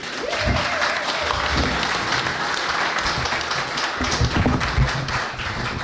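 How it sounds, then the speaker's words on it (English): A crowd at an East Kilbride independence speakers event gives Hardeep Singh Kohli a big round of applause, with loud, sustained clapping and faint voices mixed underneath. "give a big round of applause for Hardeep Singh Kohli"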